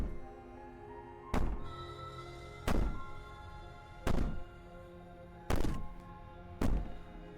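Heavy banging from the horror game I Slay the Princess: five loud, hollow thuds at uneven intervals, each sharp and booming, over a steady droning musical backdrop.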